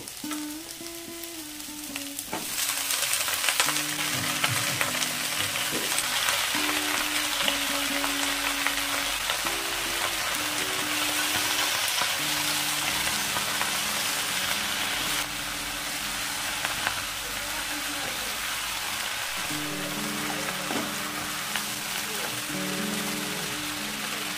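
Spinach greens with mixed vegetables and green chillies frying in a pan give a loud, steady sizzle and crackle that runs the whole time, with a faint tonal hum beneath.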